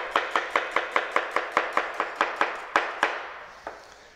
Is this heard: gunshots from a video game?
no